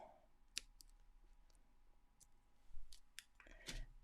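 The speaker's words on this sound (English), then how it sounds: "and then just trim the thread off" Small scissors snip beading thread beside size 11 seed beads, giving a few sharp, quiet clicks spread across a hushed room with no talking.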